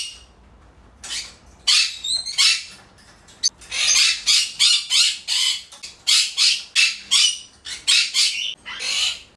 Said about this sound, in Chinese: 接下来给你们播放一段和尚的叫声。